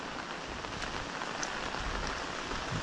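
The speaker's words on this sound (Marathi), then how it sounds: "मोठ्या प्रमाणात पाऊस कोकणात चालू आहे." Heavy monsoon rain falls in the Konkan countryside with wind, beside flooded fields, as a dense, even, unbroken hiss of rain on surfaces at moderate distance, with no voices.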